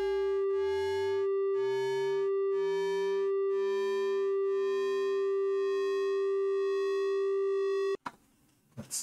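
A Hydrasynth synthesizer tone under mutant depth modulation pulses in a steady, stepping rhythm with a bright buzzy timbre, then cuts off abruptly near the end and leaves brief noisy rustling.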